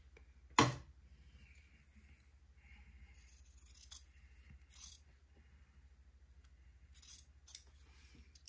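Scissors trim a fabric seam on a little white dress: one sharp, close snip near the start, then several fainter, scattered cuts in a quiet room with no talking.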